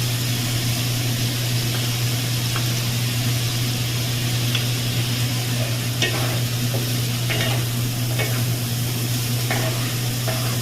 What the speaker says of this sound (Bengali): আরও 2 মিনিট আমি কষে নেব